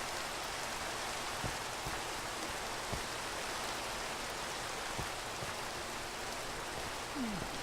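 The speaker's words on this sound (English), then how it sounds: "did it rain again?" Rain falling in a farming video game, a steady even hiss of drops on the ground with a few faint soft thumps, continuous and unbroken.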